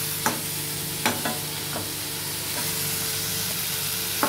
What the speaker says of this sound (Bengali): এবার এটাকে আমি ভাজা করছি,